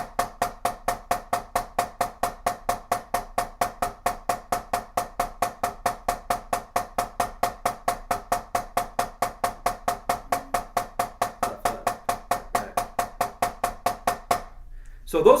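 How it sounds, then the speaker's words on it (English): Steady, rapid paradiddle stick-control strokes on a drum in even groups, accents recurring in a continuous rhythmic pattern for about fourteen seconds before stopping abruptly. "So those are the 4 paradiddle stick control patterns that invert the paradiddle around."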